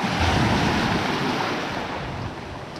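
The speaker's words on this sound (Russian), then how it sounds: "А здесь звук от волны какой." Sea waves wash loudly onto a shore on a breezy day, a broad continuous roar with wind buffeting the microphone, slowly easing as the surge recedes.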